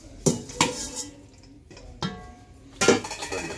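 Chicken, onions and parsley stirred in a pan with a utensil, producing several sharp metallic clanks and scrapes at irregular intervals, close and fairly loud with short quiet gaps between.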